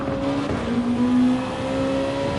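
A race car in the GR2 class accelerates in a racing video game, a steady droning engine note with a rising whine that swells briefly midway, close and alone.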